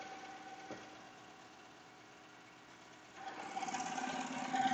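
A Melco Summit embroidery machine stitches an in-the-hoop jar opener, giving off a steady mechanical hum and whir that grows louder and busier in the last second and a half, with no talking.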